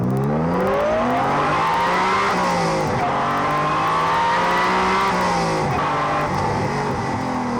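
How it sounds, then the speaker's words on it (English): Honda NSX sports car engine revving hard, a loud close howl with rising and falling pitch as it climbs and eases through the revs, with a faint whine on top. "Just listen to that engine."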